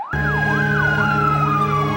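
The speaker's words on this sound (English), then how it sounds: "woken up not by an alarm clock, but by loud sirens that just wouldn't stop" A loud wailing emergency siren in Las Vegas rises and falls in steady repeated sweeps, continuous and close, with a deep engine rumble underneath.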